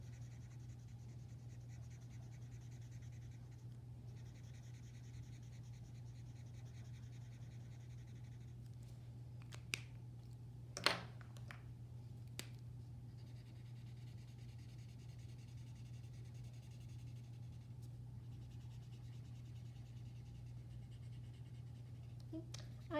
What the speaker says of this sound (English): So we're going to color his nose.